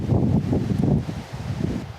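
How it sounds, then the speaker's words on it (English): Wind buffets the microphone in loud, low, gusty rumbles, strongest early then easing slightly, with no voices. "Oh, it's windy again."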